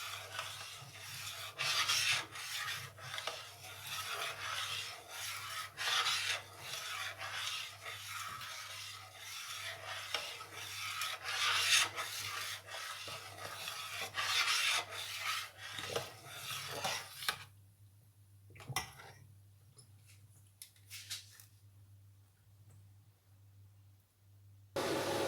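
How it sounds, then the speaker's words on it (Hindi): Spoon scraping and stirring one kilo of milk in a pot over low heat, a continuous faint rasping and rubbing that stops near the end, followed by quieter clinks. "अब इसको मैं हल्की आंच पे पकाऊंगी और मुसलसल इसको हिलाते रहना है ताकि नीचे ना लगे।"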